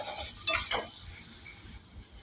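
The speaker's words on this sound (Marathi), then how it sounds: "मटकी भाजत असताना मधून या पद्धतीने सतत हलवत राहून मटकी व्यवस्थित भाजून घ्यायची" A spoon scrapes and clinks through sprouted moth beans (matki) dry-roasting in a pan, a few quick metallic strokes early on and then a soft, steady background hiss, with no talking.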